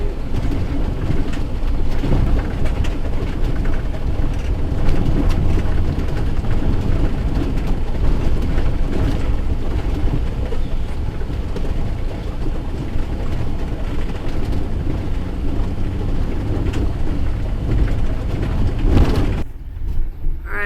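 A van rolls over a rough, bumpy dirt road in the remote mountains of Nicaragua, giving a steady, dense rumble of engine and road noise with constant rattling jolts that last almost the whole time before briefly thinning out at the end.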